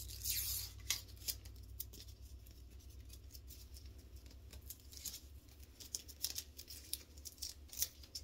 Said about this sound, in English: Trying to get the paper changed on my lint roller.